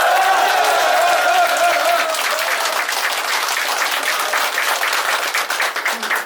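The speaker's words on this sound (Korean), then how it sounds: "우리 충남 국민들께 먼저 감사의 뜨거운 박수 부탁드립니다." An audience of supporters in Chungnam breaks into loud, sustained applause, dense clapping swelling right after a voice trails off and continuing steadily to the end.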